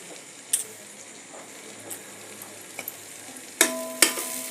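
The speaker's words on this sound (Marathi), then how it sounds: "थोडा वाटण परतून घ्यायचं." Ground masala paste with cumin sautéed in a pan for a spicy crab curry, a soft steady sizzle with scattered stirring scrapes and two louder clanks of the spoon near the end, close and without talk.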